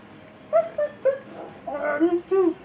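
A puppy at an Anthro New England convention whimpers and yips in a series of short, high, close whines, about six cries in under three seconds.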